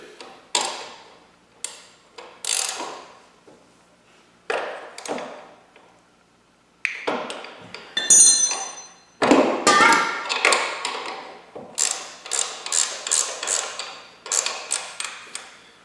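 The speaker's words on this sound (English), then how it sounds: "Got the nut crack loose." A wrench works a 17 mm nut on the kickstand of a 2022 Kawasaki KLR 650 motorcycle: a series of sharp metallic clicks and ratcheting bursts separated by short pauses, close and distinct.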